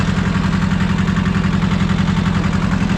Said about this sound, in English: Now I gotta take the tractor for a burn around the yard because it's new